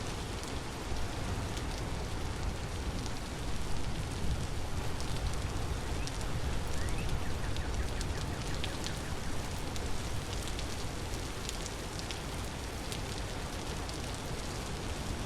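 Steady rain falling in the game Vintage Story, a dense even hiss with scattered drops lasting throughout, moderately loud and unbroken, with no talking.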